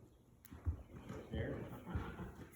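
A horse backing up steps slowly on outdoor ground while being given rein pressure, with several soft, dull hoof thuds spaced irregularly under a voice speaking.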